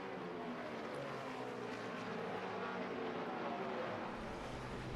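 NASCAR stock cars in final practice at the Loudon oval for the 2009 Sylvania 300, heard as a continuous distant engine roar droning steadily throughout.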